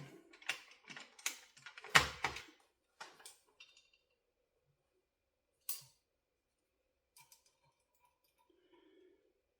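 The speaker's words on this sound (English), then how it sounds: "Retorque everything that's in there just to make sure it's all tight." Nuts and bolts on a new crossbow being retorqued with a hand tool, giving a run of quiet ratcheting clicks and metallic taps in irregular bursts, then a lone click and sparse faint ticks amid near silence.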